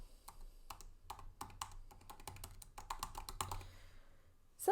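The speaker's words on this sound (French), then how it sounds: "on va appuyer sur les touches du clavier." Keys on a computer keyboard pressed in quick irregular bursts of sharp clicks and taps, close and clear with short pauses between clusters, no speech.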